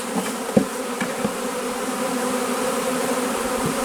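A dense, steady hum of many honeybees buzzing close by during a package install into a hive, with a few soft knocks near the start and no voices.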